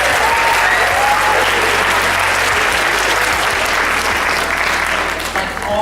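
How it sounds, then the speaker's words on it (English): An audience at a film festival awards event applauds loudly and continuously, a dense wash of clapping that stays strong before easing slightly at the end. "Can we just clap for yourselves?"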